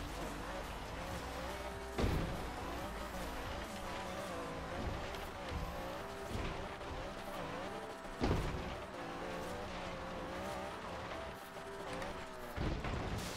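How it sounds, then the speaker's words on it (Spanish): A Honda NSX Rocket Bunny races in Forza Horizon 3, its engine roaring steadily with rising and falling revs, punctuated by a few sharp impacts or gear shifts, at moderate loudness throughout. "Hice bien en dejarle este motor, vaya como suena."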